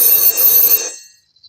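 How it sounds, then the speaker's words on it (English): A telephone rings loud and close with a bright, buzzing bell tone for just under a second, then cuts off into silence. "That's the phone."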